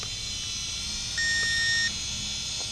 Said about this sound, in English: it did just beep for a couple of seconds there